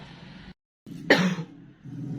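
A person coughs once, sharply and close by, in a quiet indoor setting with a faint low hum before and after.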